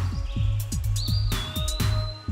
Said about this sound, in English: These colorful birds are vocal, gregarious, and highly social.